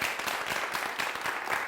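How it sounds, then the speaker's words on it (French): An audience at a televised entertainment show applauds in a dense, steady wash of clapping that fills the short moment without pause. "Je vais vous demander de vous applaudir bien plus fort que cela."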